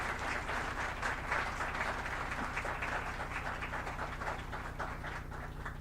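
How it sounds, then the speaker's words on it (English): An audience applauds the organizing committee at a moot court prize distribution ceremony, a steady wash of many hands clapping at moderate distance, sustained without pause and no speech over it. "A huge round of applause for them."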